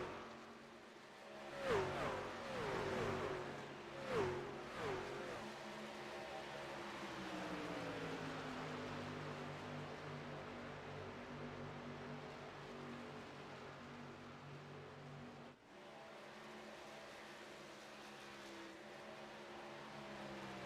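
Truck racing engines at Chicagoland Speedway in a sim racing video game, a couple of engines screaming past in quick bursts early on, then a steady droning engine roar holding for the rest.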